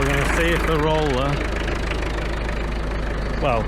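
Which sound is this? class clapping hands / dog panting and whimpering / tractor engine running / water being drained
tractor engine running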